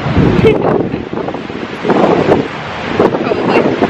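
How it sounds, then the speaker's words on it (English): Gusty wind buffets the microphone in broad rushing surges in Cancun, with people talking faintly underneath. "It's not as windy as it was this morning."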